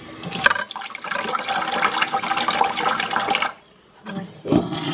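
Water gushes and splashes into a bowl for a Lush Handshake product, a loud continuous pour that stops briefly near the end before another short burst.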